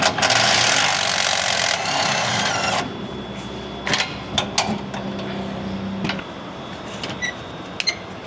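A power tool with a 13 mm socket removing a fuel tank strap bolt above the leaf spring perch on a 1999-2010 Ford Super Duty, a loud buzzing whir for about three seconds, then scattered knocks and clinks, with no talking.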